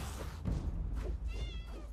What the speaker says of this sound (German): Nur eine Katze.